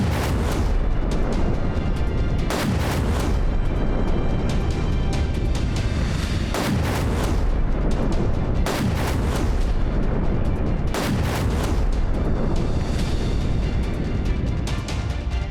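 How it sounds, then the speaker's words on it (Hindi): Israeli army bombing in Lebanon, a series of heavy, booming explosions spaced a few seconds apart, each a sharp thud with a rumbling tail over continuous background noise. "लगातार बमबारी कर रही है इजराइल की सेना।"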